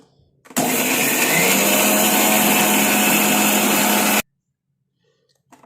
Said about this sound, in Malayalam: നല്ല പോലെ പേസ്റ്റായിട്ട് അരച്ചെടുക്കാം